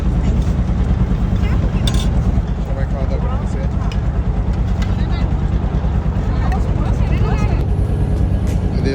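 Boats motor along a river near Chandpur, giving a continuous loud engine drone and water rush. People talk over the noise throughout.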